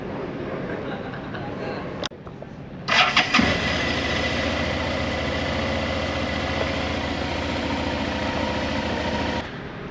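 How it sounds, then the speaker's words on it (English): A motorbike cranks briefly and catches, then settles into a steady, close idle that runs for several seconds before cutting off abruptly; a voice speaks over it at times. "So bike starts"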